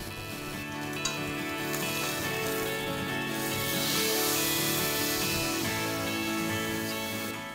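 A sous vide rib eye steak sears in a hot buttered pan, sizzling loudly and steadily throughout.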